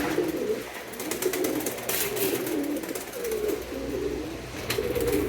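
Pigeons of show and fancy breeds coo in a loft, with repeated soft, low cooing phrases close by over a continuous rustling background and no talk.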